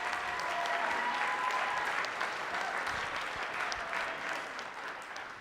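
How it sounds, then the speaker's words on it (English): A junior high school winter concert audience gives the jazz band a steady round of applause, dense and sustained, slowly thinning toward the end, heard from within the hall. "How about one more round of applause for the jazz band?"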